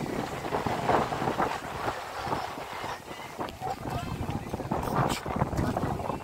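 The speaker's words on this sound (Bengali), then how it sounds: "অসম্ভব এই যে হাওয়া" Strong sea wind blowing across a beach at night, a loud rough rumble buffeting the microphone throughout, with people talking under it.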